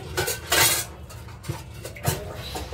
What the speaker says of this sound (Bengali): কড়াইটাকে জলে ভেজাতে হবে